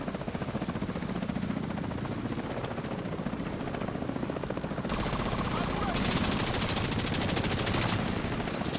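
Helicopter in a video game with gunfire: a continuous loud rotor chop beats throughout while rapid machine-gun bursts rattle over it, growing denser in the second half, with a voice speaking briefly.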